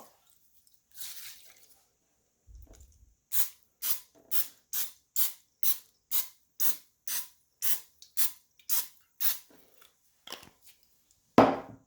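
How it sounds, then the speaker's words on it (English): Nonstick cooking spray misted over a metal muffin tin in a home kitchen: about fourteen short, evenly spaced hissing spurts in a steady rhythm, close and fairly quiet, with a sharper clatter at the very end. "What I'm going to do next is spray it a little"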